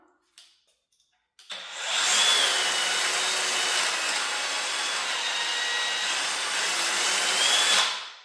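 A Fein power tool for metalwork whines steadily at high pitch for several seconds, then cuts off abruptly as it brakes, stopping almost instantly.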